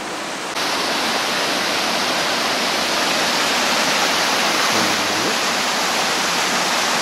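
Water roars through rapids on the Koirinoja river in Karelia, a loud steady rushing wash that fills the whole clip, close and continuous with no talk.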